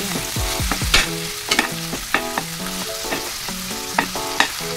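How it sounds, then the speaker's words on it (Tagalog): Ground pork sautéing in hot oil for menudo, with a crackling sizzle under a spatula that scrapes and clinks against the pan in an irregular stirring rhythm, close and fairly loud. "hayaan natin guys mag-isa-gisa. Mantika ang ating giniling."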